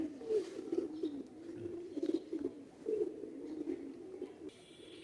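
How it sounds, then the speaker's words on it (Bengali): Fancy breeding pigeons, including a pair of a female and a male, give a steady throaty cooing close by, with repeated low rolling coos swelling and fading over background hiss. "এক হাত লম্বা এক একটা কবুতর দেখেন"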